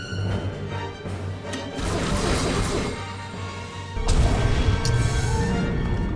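Torpedoes slam into a warship's thermal shields in an animated Star Wars Clone Wars space battle, a run of loud crashing blasts and rumbling booms with heavy explosions that swell again near the end.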